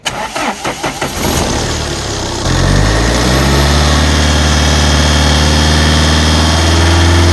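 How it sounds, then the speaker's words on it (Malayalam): A Tata Safari 2.2 VTT Dicor diesel engine is cranked by the starter in a rapid, rhythmic churn for about two seconds. It then catches and settles into a loud, steady, rumbling idle with no talk. "ഒന്ന് സ്റ്റാർട്ടായി കാണിക്കാമോ ആ സൗണ്ടോടെ നോക്കാം two point two V V T Dicor engine"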